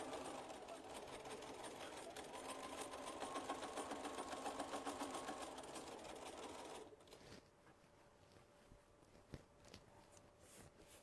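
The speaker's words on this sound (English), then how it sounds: "So I'm going to back stitch down here, and we're going to head up that line." A sewing machine back stitching a gardening half apron runs in a steady, close, rapid stitching rhythm for about seven seconds, then stops, leaving quiet handling noises and faint clicks.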